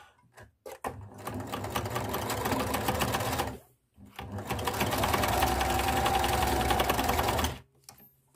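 A sewing machine stitches fabric in two long runs, a steady rapid mechanical whir and chatter broken by a short pause, close and loud, with a few faint clicks at the start and end.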